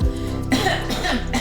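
A woman clears her throat once, close and short, in a rough cough-like burst that a narrator's voice seems to perform.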